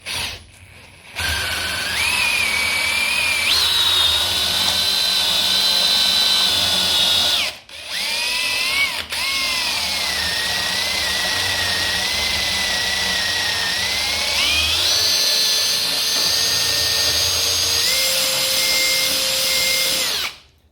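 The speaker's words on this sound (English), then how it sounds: "25mm bit which fits the tubular latch. Have a pilot hole." A power drill with a 25mm bit bores a hole for a tubular door latch through a jig, a loud steady high-pitched whine running continuously for about twenty seconds with one brief stop and shifts in pitch.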